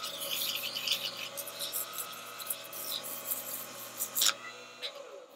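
Sandpaper of 320 grit rubs against a wooden bottle stopper spinning on a small pen lathe, a steady close hissing friction with a faint motor hum beneath, softly pulsing before stopping near the end.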